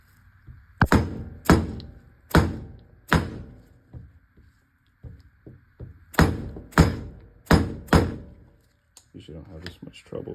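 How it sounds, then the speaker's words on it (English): A 15 mm socket hammered against a part seated in a BMW N54 high-pressure fuel pump during a teardown: two close, loud runs of four sharp metallic bangs each, with lighter taps between them and at the end. "So then we'll use a 15 millimeter socket to bang this out."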